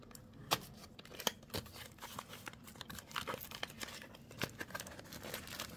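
Hands tearing and crinkling open the packaging of a Sonny Angels blind box, a close, quiet run of irregular rustles, rips and crackles with no talk.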